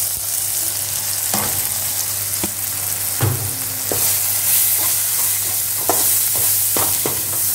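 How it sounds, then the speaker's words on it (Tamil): Onions, tomatoes and masala powder sautéing in a pan for goat nalli bone broth, a steady close sizzle with repeated scraping stirs of a spoon throughout. "இந்த வெங்காயம் தக்காளி வணங்கிடுச்சு இல்லைங்களா, இதில் நம்ம போட்டு நல்லா வதக்கணும்"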